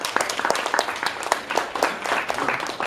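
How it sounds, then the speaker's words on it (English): A small group claps for a speaker at a Toastmasters session, the uneven clapping fairly quiet and close, with individual hand strikes standing out. "let's have a round of applause for him"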